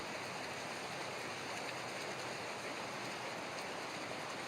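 A steady drizzle of rain falls beside a steelhead fishing river, forming a faint, even hiss of rain and flowing water with no breaks or distinct events.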